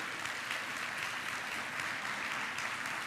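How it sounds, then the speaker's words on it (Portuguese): Faint, even clapping from a church congregation during a family worship service, distant and continuous with no voices on top. "aplaude o nosso maravilhoso Deus"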